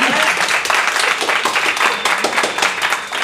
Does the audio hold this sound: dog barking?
no